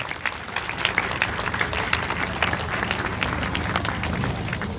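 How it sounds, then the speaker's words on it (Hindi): Audience applause greeting a shawl-honouring at a Swami Vivekananda Jayanti school function, a steady dense clapping that carries evenly through the whole stretch with no voices over it. "आप जोरदार तालियों से स्वागत करें।"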